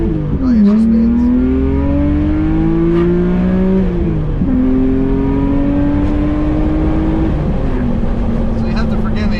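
BMW E36 with a swapped S54 engine and no catalytic converters accelerating hard, a loud raw engine note climbing steadily in pitch through several gears, with brief dips at each shift.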